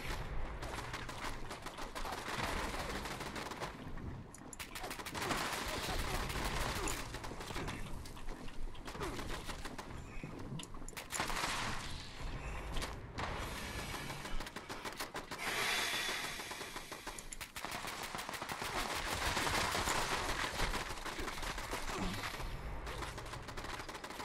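Turrets firing in the video game Fallout 76, continuous rapid gunfire bursts and clattering shots over a dense steady din, faint and distant-sounding throughout.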